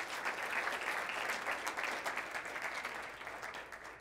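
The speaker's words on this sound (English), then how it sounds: "So let's give Brock a round of applause." Applause from an audience at a high school senior's college signing ceremony, a steady dense patter of many hands clapping throughout, fairly distant and fading slightly toward the end with no talk over it.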